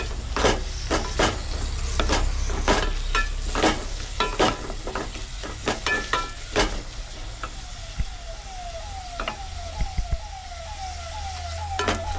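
Tomatoes fry in a pan cooked aboard a Tamil Nadu lorry, with a steady close sizzle and rhythmic scraping stir strokes throughout, plus a faint repeating chirp in the background.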